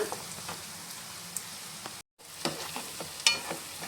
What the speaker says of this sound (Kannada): ಮತ್ತೊಂದು ನಿಮಿಷ ಹೀಗೆ ಫ್ರೈ ಮಾಡಿ